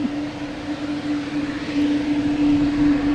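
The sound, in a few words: loud JetBlue jet aircraft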